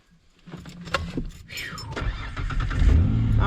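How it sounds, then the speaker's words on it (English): A truck engine cranks and catches after some clicks and rattles, rising into a steady idle rumble that grows louder toward the end, with wind in the background. "I'm gonna back the truck inside so I can get my tools and stuff"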